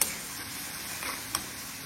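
Potatoes fry in hot oil in a home kitchen, giving a steady, close sizzling hiss with a couple of faint ticks and no voices.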